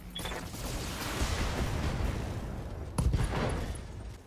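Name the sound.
mech firing full salvo of lasers and missiles, BattleTech video game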